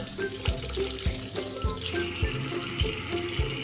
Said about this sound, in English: Wash with warm water and use detergent or vinegar to clean the eggs.